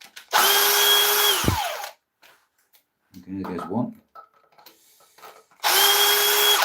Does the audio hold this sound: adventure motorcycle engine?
no